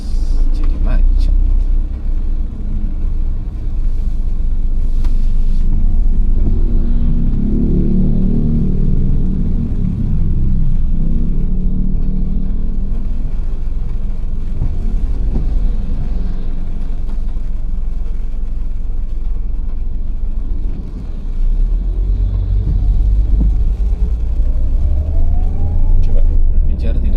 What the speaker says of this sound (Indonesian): Kendaraan yang berjalan juga terimbas jadi macet.